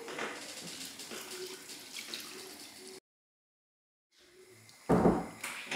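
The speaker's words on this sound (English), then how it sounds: "Add more water for the pepper soup and then cover for 10 to 15 minutes." Water splashes into a pot of pepper soup in two bursts, a short faint run first, then after a brief silence a louder, closer gush of pouring water.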